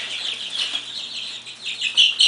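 A group of 31 baby chicks being moved in a tightly packed carrier peep continuously, a high-pitched chorus of overlapping cheeps, fairly close, with some louder calls near the end.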